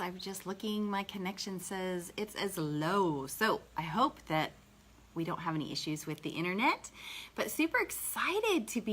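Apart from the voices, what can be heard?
No everyday noises stand out.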